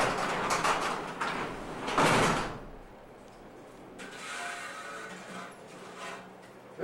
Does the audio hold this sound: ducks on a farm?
no